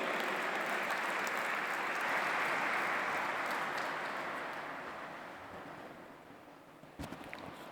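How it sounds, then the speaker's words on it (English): An audience at an interfaith forum applauds, a dense wash of clapping that swells, then gradually fades toward the end, with a few louder bumps near the close. "Let us put our hands together and welcome, with a big round of applause, Honorable Dr. Dalbir Singh ji."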